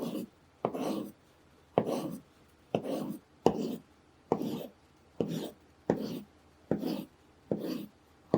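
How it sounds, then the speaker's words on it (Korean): A knife dices avocado into small cubes on a cutting board in steady, evenly spaced strokes, each a soft scraping cut followed by a brief pause, about ten in all, close and alone. "아보카도는 반으로 자른 다음 껍질을 벗기고 작은 크기로 깍둑 썰기 해주시고요"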